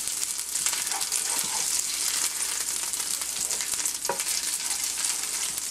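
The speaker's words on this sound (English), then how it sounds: "I'm just going to stir fry the ginger just a little" Ginger stir-fries in a pan for homemade egg rolls, giving a close, continuous sizzle with small pops and scraping stirs throughout.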